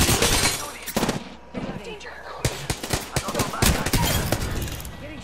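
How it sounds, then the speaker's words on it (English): Rapid video-game gunfire from Apex Legends crackles in dense bursts and single sharp shots, loud and close, with overlapping volleys and a player's voice talking between them. "Getting shot at."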